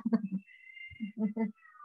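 Fighting cats yowl and growl in short harsh bursts, with a thin high whine drawn out between the cries, fairly close.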